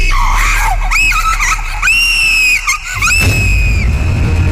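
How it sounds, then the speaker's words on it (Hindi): A loud, piercing scream in a Hindi horror audio drama rises and wavers in several shrill bursts, alone and close, ending in a rumbling noise. "तभी एक जोर से चीखने की आवाज आई"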